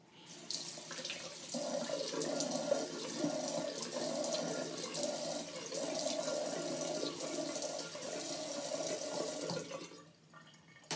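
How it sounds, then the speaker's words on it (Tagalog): Tap water runs steadily into a sink for about nine seconds as someone washes their face, a close, even splashing flow that stops near the end. "i-wash muna natin ang ating mukha. Okay? Maghilamos muna tayo."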